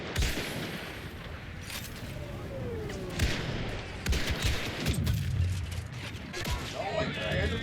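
Cycler Rifle shots ring out in a video game battle on and around a ship, with sharp reports and distant booms amid continuous game noise, while a player talks over the action.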